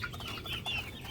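Hens clucking softly in a backyard, low murmuring calls and a few brighter chirps from resting birds, faint and continuous at a short distance.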